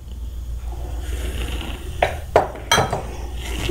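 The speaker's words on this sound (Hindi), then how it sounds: "एग ऐड करने के बाद अच्छे से मिक्स करेंगे।" Eggs being mixed into fruit cake batter in a bowl, a few close, sharp clinks and scrapes of a utensil against the bowl over a low background hum.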